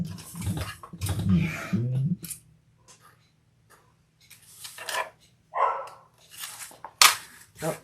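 Dogs bark in several short, sharp bursts, close by, scattered among quieter stretches after some earlier indistinct voice sounds.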